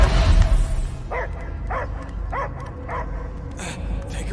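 A dog in the video game Guardians of the Galaxy gives a run of about six sharp, evenly spaced barks with yipping edges, fairly close, over a dense rumbling game soundscape.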